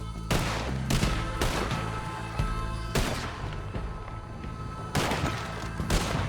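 Gunfire in Red Dead Redemption 2, a Western video game, rings out as a string of loud, close shots in irregular bursts, each sharp crack followed by a booming tail, with no talking.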